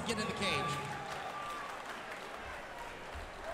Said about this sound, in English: let's give Branden Hartsock a big round of applause